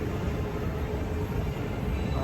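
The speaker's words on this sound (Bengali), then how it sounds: "ওই যে ট্রেন আসতেছে" A train approaching, giving a steady broadband rumble and rattle that stays loud and continuous throughout.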